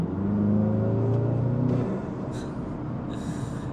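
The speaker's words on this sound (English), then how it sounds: "Get some pretty satisfying turbo sounds." A VW GLI fitted with an APR open air intake gives a loud, close engine rumble that eases off, with brief airy turbo whooshes and hisses as the throttle lifts.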